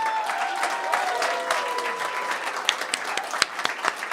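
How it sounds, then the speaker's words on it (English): Audience applauding at a live evening music event, a steady wash of clapping from a crowd with occasional louder individual claps standing out near the end. "Can we get a big hand for Mo Prevention running sound in the back?"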